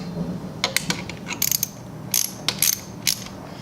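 An 8mm socket ratchet tightens the oil filter cover on a 2018 Benelli TNT 135 motorcycle, giving several quick bursts of close, crisp clicking with short pauses between them and no talk.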